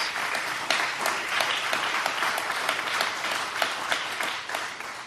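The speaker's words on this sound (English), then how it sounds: "They all need a big hand of applause." A room full of people at a fire protection district board meeting applauds paramedics, sustained clapping from many hands, fairly close and loud, holding steady for several seconds with no talk over it.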